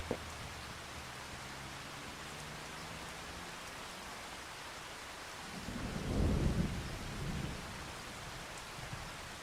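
Steady rain falls in Farming Simulator 25, a constant hiss of patter with a low rumble of thunder swelling around the middle, close and even throughout.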